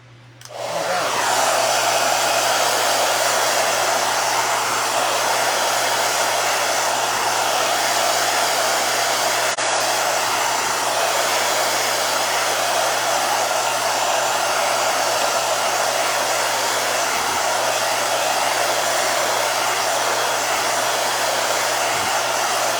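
A hair dryer on its cool setting blowing over a wooden door hanger switches on and runs as a loud, steady, unbroken whoosh with a low electrical hum beneath, close and alone.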